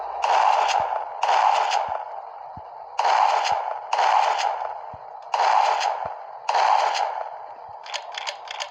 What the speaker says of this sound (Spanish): Vale, esta es la escopeta.